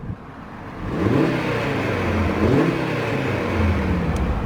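A 2019 Audi RS Q3 Sportback engine revs repeatedly up against a limiter near 4,000 RPM, rising and falling in a few close, loud pulls that hold at the cutoff, with no talk.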